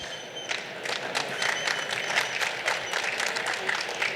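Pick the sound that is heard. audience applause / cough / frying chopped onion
audience applause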